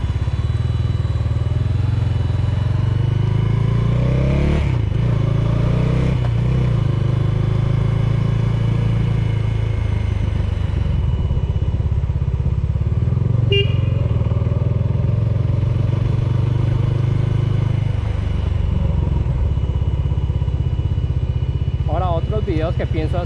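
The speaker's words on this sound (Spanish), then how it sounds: "Oiga el ventilador como suena" A 2020 Bajaj Dominar 400 UG motorcycle engine idles loudly up close with a steady low rumble, its cooling fan whirring along with it, while someone talks over the noise throughout.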